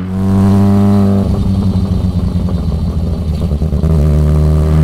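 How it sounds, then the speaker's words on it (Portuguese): A Yamaha XJ6 motorcycle's engine and exhaust drone steadily while riding, close and loud, with a strong low rumble, a brief shift in tone, and a pulsing throb as the engine note changes. "Mas já vai dar para ter uma ideia muito boa do som aí que a XJ tá fazendo"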